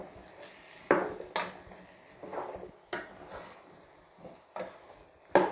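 Spoon scraping and clanking against a pot while stirring a prawn, potato and eggplant curry, sharp irregular knocks at uneven intervals with soft swishing in between, close and fairly quiet.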